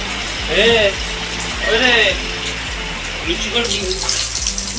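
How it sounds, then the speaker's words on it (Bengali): Rain falls by a roadside shop where tea and flour are being prepared, a steady broadband hiss running throughout, with voices rising briefly over it. "তো এই যে বৃষ্টি নেমেছে এখানে দেখো"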